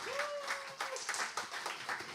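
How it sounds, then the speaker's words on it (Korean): Audience applauding after a gayageum performance at a church concert, a fairly soft, steady patter of clapping with a brief tonal slide in the first second. "가야금 연주 다시 한번 뜨거운 박수 부탁드립니다"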